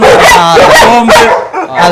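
A Labrador retriever barks loudly and close by. Several sharp barks and yips come in quick succession, with short whimpery tails between them.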